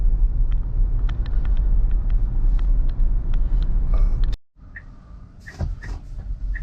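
A 2022 Tesla Model Y Dual Motor Long Range with a towing package pulls away hard from a stop, its rumbling road noise loud and steady, then cutting off abruptly into a quieter stretch with scattered small knocks.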